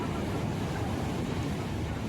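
Steady roar of sea waves at Digha beach, a dense unbroken wash of surf with wind noise over the microphone.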